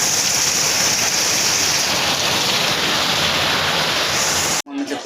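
Heavy rain during a hailstorm drums steadily on a sheet roof, a dense, loud hiss throughout, with a short break and a faint voice at the very end.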